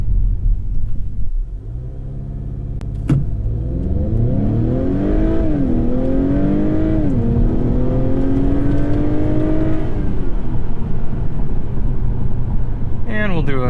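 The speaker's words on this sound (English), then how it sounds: "Do a 0 to 60 start." A 2021 Acura TLX launches from a standstill to 60, its engine roaring loud and close as the pitch climbs through several rising sweeps with brief dips at gear changes, over heavy cabin rumble.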